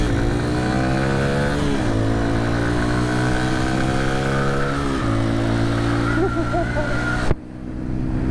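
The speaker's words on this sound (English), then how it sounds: "You got to keep revving it." An engine revs continuously with rising and falling pitch, kept revving so it does not stall, held loud and close throughout, then cuts sharply near the end.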